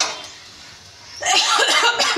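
A woman gives a sudden, close, harsh cough burst that breaks a quieter stretch and carries on for about a second in a few rough pulses.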